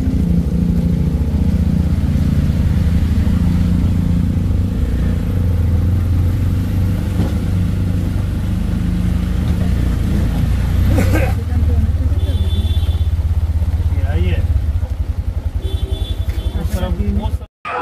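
An auto rickshaw motor chugs steadily and loudly throughout a ride to Ranchi railway station, with a few rattles and bumps near the end before it cuts off abruptly.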